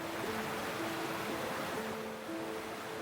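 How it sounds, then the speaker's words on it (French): The Krimml Waterfalls in Austria's Hohe Tauern send down a constant, dense roar of rushing water, heard broadband and unbroken, with a faint tonal hum running beneath it and no voices. "L'eau de la Krimmler Hache se précipite en 3 paliers principaux le long de parois rocheuses abruptes avant d'atteindre la vallée."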